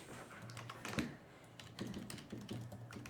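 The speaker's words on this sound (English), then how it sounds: "type in the password if I can get it correct" Quick bursts of typing on a computer keyboard as a password is entered, close and faint, with irregular clusters of key clicks and short pauses between them.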